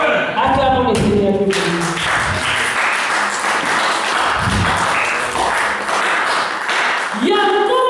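Church congregation clapping loudly in praise at a worship service, dense steady applause with a voice speaking over the start and end.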